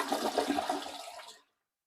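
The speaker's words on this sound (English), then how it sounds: "And we're going to flush it." Toilet flushing after its water supply valve was shut off, a short gurgling rush of water that fades out within about a second and a half, leaving silence.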